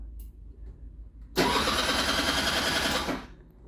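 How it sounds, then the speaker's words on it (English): A Hyosung Sense scooter's starter motor cranks with no fuel in the tank, a sudden loud whirring grind that holds for under two seconds and then stops, after quiet low background noise. "so the starter works, nice. Got no fuel, so no wonder."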